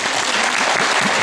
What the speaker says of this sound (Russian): И ждут ваших аплодисментов.